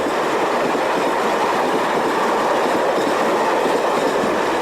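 A Portuguese broad-gauge intercity train runs on rails with a loud, continuous rumble and faint clatter of wheels, close and steady throughout with no voices.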